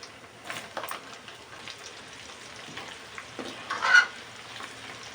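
Soft sizzling of mutton pieces frying in oil for mutton pickle, quiet and steady, with occasional stirring scrapes and a brief louder clatter near the end.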